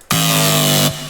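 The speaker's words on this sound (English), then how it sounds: "We've got this flanger here, which does this." A sustained Serum synth bass note with a sweeping, whooshing flanger effect, loud and steady for about a second before cutting off.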